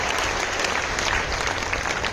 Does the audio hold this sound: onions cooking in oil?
no